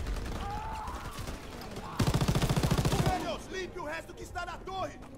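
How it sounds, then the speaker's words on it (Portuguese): In the World War II video game Call of Duty WWII, an MG-42 machine gun fires one rapid, loud burst of about a second, with speech and game noise before and after it. "vou pegar a MG-42 aqui"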